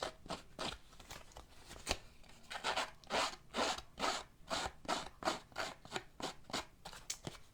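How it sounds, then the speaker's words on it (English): Scissors roughing up the cut edge of a paper piece at a craft table, producing a run of close, steady scraping and snipping strokes, fairly quiet and without talk. "I'm just going to get my scissors and just rough that up"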